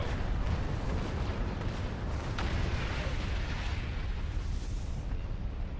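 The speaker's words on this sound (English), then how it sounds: "plasma cannons, super loud" Loud, dense roar of plasma cannon fire in the video game Star Trek Online, a continuous booming blast with crackling bursts layered throughout, no pauses.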